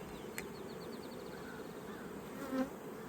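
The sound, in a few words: honey bees buzzing in open hive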